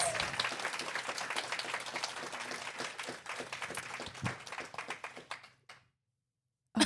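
A studio audience claps and cheers in a dense, close burst of applause that gradually thins into scattered claps before cutting to silence.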